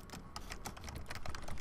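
Rapid, uneven keystrokes on a computer keyboard during a League of Legends jungle match, a steady run of close clicks with no talk over them.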